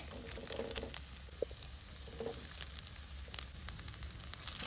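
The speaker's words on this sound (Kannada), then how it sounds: "ರೈಸ್ ಹಾಕ್ತಾ ಇದ್ದೀನಿ." Rice tipped into a hot pan of coconut masala, giving a soft, steady sizzle with light crackles and patter, faint and close, with no talking.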